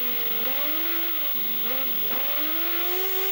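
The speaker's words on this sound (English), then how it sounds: "Listen to the revs as they go down and up towards Druids." A British F1 racing sidecar engine revs hard, its pitch dropping and climbing through quick gear changes approaching Druids corner, loud and continuous with no talking.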